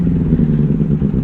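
A Benelli 600i motorcycle fitted with an Ixill exhaust idles with a deep, steady engine rumble, loud and close throughout the brief moment.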